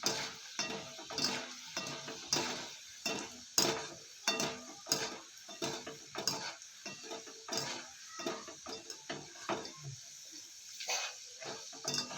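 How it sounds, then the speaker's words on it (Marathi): Roasted gram dal fries in oil for rava chivda while being stirred, producing a series of sharp scraping clicks and bursts of sizzle in an irregular rhythm, close and fairly quiet. "फुटाण्याची डाळ आपण तेलामध्ये घातलेली आहे"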